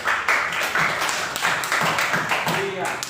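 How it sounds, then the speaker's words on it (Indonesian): A classroom of students claps together during a school lesson, a fairly quiet, somewhat rhythmic patter of hands in bursts, with some voices mixed in. "Nah, beri tepuk tangan."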